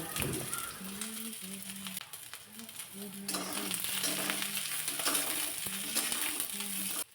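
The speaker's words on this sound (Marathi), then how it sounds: "कढईमध्ये अगदी थोडंसं एक चमचाभर तेल घातलं आणि त्यानंतर मग एक मोठ्या साईजचा कांदा चिरून यामध्ये घालायचा" A large chopped onion fries in a spoonful of oil in a kadhai, a constant bright sizzle close by, with repeated short scraping and clinking taps from stirring that grow slightly louder toward the end.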